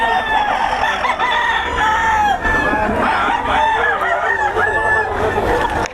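Roosters at a cockfight in Bocaue, loud overlapping crowing and clucking from several birds nearby, with faint voices in the background.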